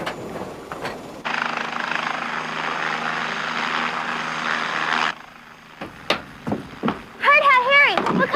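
A troop-carrier helicopter's steady, loud rotor and engine roar runs for several seconds, then cuts off, followed by clattering and a voice speaking.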